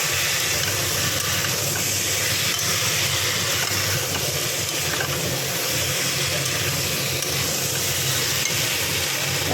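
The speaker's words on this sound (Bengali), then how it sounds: "ফুলকপি আলু মশলার সঙ্গে ভালো করে কষিয়ে নিলাম।" Cauliflower and potato frying with spices in a pan, a loud continuous sizzle with stirring scrapes, steady and close throughout.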